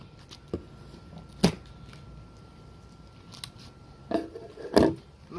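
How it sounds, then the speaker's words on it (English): Packing straps on the box of a Blackstone 36-inch griddle being cut, giving a few sharp isolated snaps and scrapes spread across a quiet room, the last pair louder and closer. "Cut these straps."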